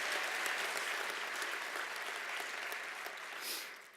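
A large audience at an induction ceremony gives a warm round of applause, a steady wash of many hands clapping at moderate distance that gently fades near the end.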